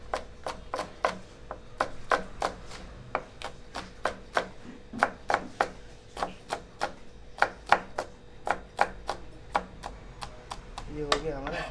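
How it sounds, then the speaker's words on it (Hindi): A knife chopping vegetables for vegetable fried rice in an Indian hotel kitchen, a steady run of crisp, evenly spaced board strikes, close and clear, with faint background noise. "अभी हम काटने को जा रहे हैं राइस, वेजिटेबल फ्राई राइस के लिए वेजिटेबल"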